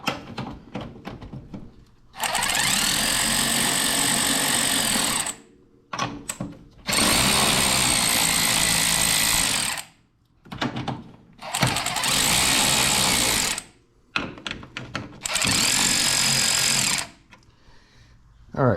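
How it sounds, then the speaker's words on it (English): A power wrench rattles in four loud bursts of a few seconds each, loosening suspension bolts on a car during a Tein suspension install, with quiet gaps and faint clicks between the bursts. "So I'm just gonna use my power wrench."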